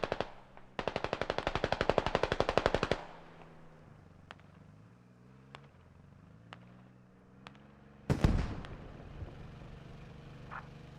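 Gunfire and explosions in the video game Squad during a mortar barrage: a long burst of rapid automatic fire, then scattered sharp distant cracks and a heavy close blast near the end, moderately loud.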